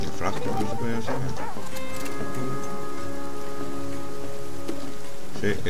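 Rain in the survival video game The Flame in the Flood falls steadily as a soft pattering wash across the whole stretch, with music-like tones layered in and a voice speaking over it.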